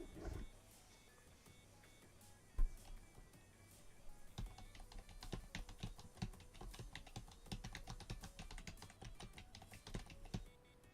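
Computer keyboard keys clatter in quick irregular bursts during a gaming stream, fairly close and moderately loud, with a louder thump near the start and steady typing-like taps through the rest.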